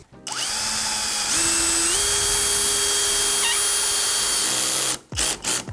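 A cordless 18V drill-driver, Milwaukee M18 FPD2 or Vitals Professional AU 18, drives a screw on its first torque setting: a loud steady motor whine rising in pitch partway through, then stopping, followed by a few short bursts.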